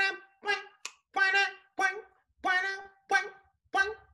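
A voice imitates a twangy, high-pitched electric guitar in eight short, bright, buzzy notes plucked out in a quick, uneven rhythm, close and clear with no other sound.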